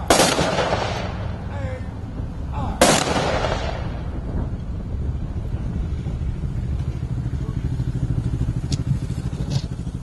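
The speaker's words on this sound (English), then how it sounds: "we'll have the shooting of the salute, firing squad." A firing squad fires a rifle salute at an outdoor Memorial Day ceremony: two loud, sharp volleys a few seconds apart, each followed by a fading echo over steady outdoor background noise.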